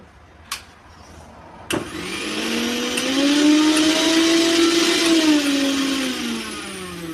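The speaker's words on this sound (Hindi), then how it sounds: "आप देख सकते हैं कि हमारी मिक्सी अच्छे तरीके से वर्क कर रही है" Repaired kitchen mixer grinder starting up after its lead wire was replaced, its motor whirring and rising in pitch to a steady loud hum, then easing slightly near the end; a couple of sharp clicks come before it starts.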